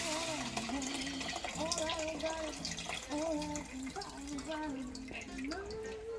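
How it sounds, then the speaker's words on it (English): Water poured from a pitcher into a pot of simmering lentils for a chicken-thigh lentil stew, a continuous gurgling stream with shifting bubbly tones while a voice talks over it. "Fill it up with water out of my 0 water pitcher here."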